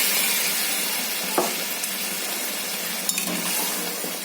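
Masala sizzles and fries steadily in a pan as hot water goes in, with a couple of brief stirring clinks over a continuous hiss, close and moderately loud.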